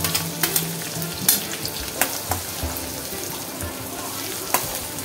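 Mustard seeds and cumin sizzle in hot oil, a busy close crackle with scattered sharp pops and spits over a steady frying hiss.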